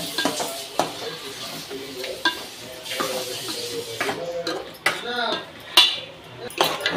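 Spoon stirring food in a pan, with a steady sizzle of frying underneath and repeated scrapes and clinks against the metal, close and moderately loud.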